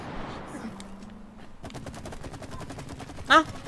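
Rapid gunfire from the co-op video game It Takes Two, a fast run of sharp bursts with one louder crack near the end, heard under a faint background tone.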